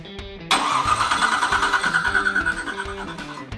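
A car engine cranks and catches, then settles into a rough, pulsing idle close by.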